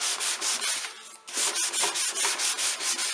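A single sheet of 220-grit sandpaper rubbed by hand along the grain of wood for a speaker box, making rhythmic close scratchy strokes with a brief pause partway through and no talking.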